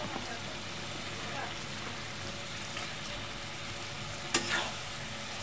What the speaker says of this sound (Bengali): এখন আমি মাছগুলি কষিয়ে নেব